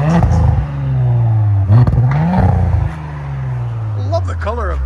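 A 2020 Audi S4 with a 3.0L turbo V6 and resonator delete revs loudly up close, its exhaust note rising and dropping in repeated throttle blips before settling to a deep idle.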